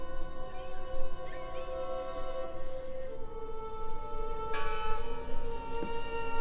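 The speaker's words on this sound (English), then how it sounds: "I heard the bell!" A church bell rings in the video game Draugen, its sustained metallic tones hanging over a low ambient background, with a fresh strike about two-thirds of the way through that sets the ringing humming again.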